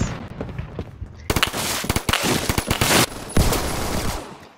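Rapid automatic gunfire from the Roblox shooter Phantom Forces, loud bursts of closely spaced shots with brief pauses and a few heavier single shots.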